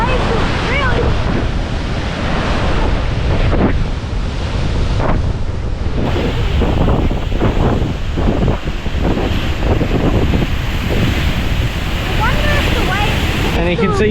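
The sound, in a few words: waves pounding on rocks below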